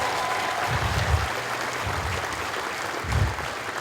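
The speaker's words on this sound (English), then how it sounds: "Let's give them a round of applause." Audience applause for Air Force Basic Military Training graduates at a graduation ceremony: a sustained, dense wash of clapping from a large crowd, steady throughout with a couple of louder swells.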